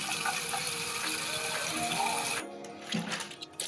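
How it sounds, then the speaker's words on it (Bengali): Running tap water splashing steadily over taro stolons being washed in a kitchen sink, a close continuous gush with brief handling sounds near the end. "কচুর লতিগুলো ধুয়ে নিচ্ছি।"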